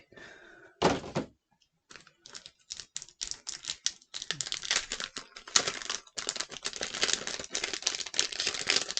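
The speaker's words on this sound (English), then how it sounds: "We're just gonna peel it open and see which cards I got." A stiff shipping envelope holding trading cards is peeled and torn open up close, starting with a sharp rip followed by a run of crinkling, tapping and rustling handling noises with brief pauses.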